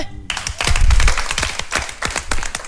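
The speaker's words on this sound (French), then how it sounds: "Merci d'applaudir." Applause from a pageant audience in a large hall, a dense patter of clapping with sharp individual claps standing out, loud and steady throughout with no talk over it.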